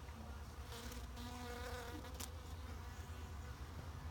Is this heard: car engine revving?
no